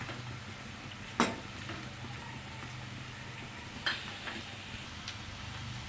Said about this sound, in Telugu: వేడయ్యాక ఉల్లిపాయ ముక్కలు వేసుకుందామండి. పచ్చిమిర్చి వేసుకుందామండి. వేసి కలుపుకుందాము.